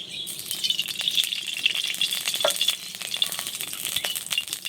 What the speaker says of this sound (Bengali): এই কড়াইতে তেল দিয়ে আমি রূপচাঁদ মাছগুলো ভেজে নেব